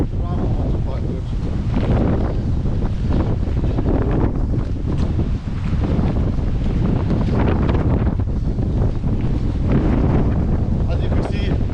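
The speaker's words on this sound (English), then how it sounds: "As you can see, it's a windy day." Strong wind buffets the microphone on an outdoor hike to Dovestone Rocks, a loud, continuous roar that surges and gusts without letup and drowns out everything else.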